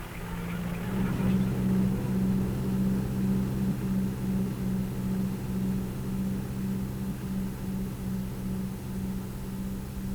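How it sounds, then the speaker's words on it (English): A 215 horsepower John Deere 8430 tractor pulling a 7-furrow Dowdeswell plough in a field, a steady low engine drone with an even pulsing hum, constant and moderately loud throughout. "The 215 horsepower John Deere 8430 seemed to have few problems with this 7-furrow Dowdeswell plough"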